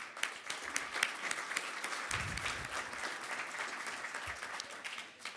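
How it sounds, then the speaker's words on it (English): A quick round of audience applause at a legislative preview event, dense steady clapping from a roomful of people, heard fairly close, with a few low thumps mixed in. "If we could just give them a quick round of applause."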